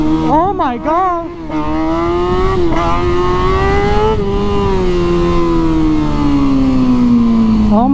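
A stunt motorcycle's engine revs hard and then holds a loud, sustained, slowly shifting drone as the bike is pulled into a wheelie, up close and dominant.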